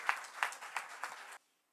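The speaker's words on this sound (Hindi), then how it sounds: "एक बार फिर से जोरदार तालियां, स्वागत करें।" A gathering at a Hindi album release event in Kolkata claps in welcome, four or five quiet, distant bursts of applause that cut off abruptly into silence.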